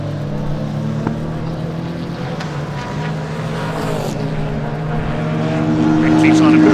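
A Bentley and a Ginetta race on the Anglesey circuit in a BARC event, their engines droning loudly with shifting pitch and a sweep as one car passes, and the roar builds toward the end.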